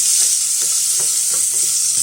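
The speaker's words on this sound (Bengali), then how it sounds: "তাহলে পেঁয়াজটাকে ভাজি করছি" Frozen onion frying in a pan with a steady broadband sizzle and a few soft stirring scrapes, close and continuous, with no talking.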